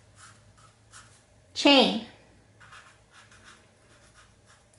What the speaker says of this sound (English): I'm going to write food supply